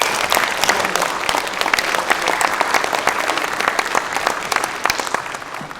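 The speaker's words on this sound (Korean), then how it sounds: "박수 한번 보내주시죠." Clapping from guests at a book launch event, many hands striking in a lively, uneven patter that stays strong and close throughout.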